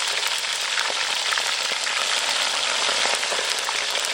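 Fish fries in hot oil with a dense, steady sizzle and crackle, loud and close, with no talking.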